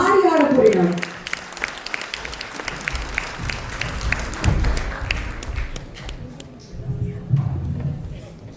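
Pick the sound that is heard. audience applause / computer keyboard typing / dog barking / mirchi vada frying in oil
audience applause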